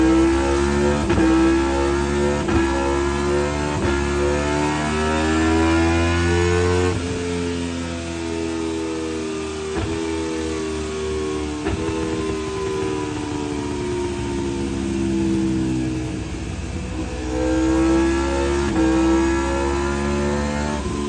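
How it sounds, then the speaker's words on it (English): An Aprilia RSV4 motorcycle engine runs on a dyno, revving loudly and up close with rising and falling harmonic whine through repeated throttle pulls, a continuous roar with no talk over it. "So there we are, you see the bike's running."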